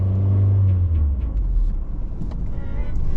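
A manual car driven by a learner pulls away, its engine rumbling loudly and rising briefly at the start before settling into a steady low drone, with no talk.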